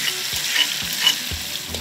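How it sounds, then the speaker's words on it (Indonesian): Ground spice paste sizzles as it is sautéed in a hot pan while bakso is being made, with a steady close frying hiss and several soft stirring scrapes and knocks of the utensil against the pan. "Tumis bumbu yang telah dihaluskan hingga harum."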